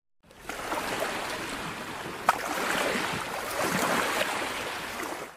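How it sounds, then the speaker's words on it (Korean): Water washes and hisses steadily for several seconds, a soft wave drawing back across the shore, with one small knock partway through. "여섯째 파도가 물러가는 소리"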